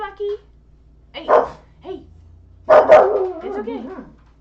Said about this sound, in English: I told you she was gonna bark.